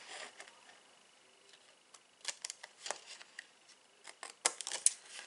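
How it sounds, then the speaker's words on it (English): Scissors snip through cardstock while a small paper gift box is cut and scored, sparse quiet clicks at first building into quicker, crisper cuts near the end. "Got me having to close my scissors with both hands."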